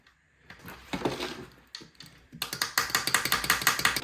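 A 1/2 inch socket wrench ratchets on a bolt: a brief ticking burst early, then a steady, loud run of rapid clicks through the second half, close by with no talk.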